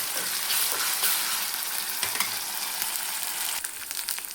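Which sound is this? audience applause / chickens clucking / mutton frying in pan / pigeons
mutton frying in pan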